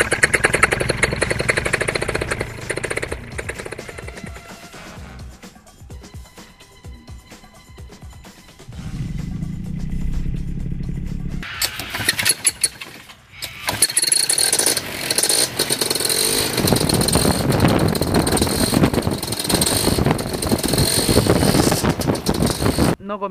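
A Vittorazi Moster 185 paramotor engine runs close by, loud and buzzing. It drops to a lower idle partway through, then climbs back to a harsh high-revving roar, with brief moments of talk mixed in.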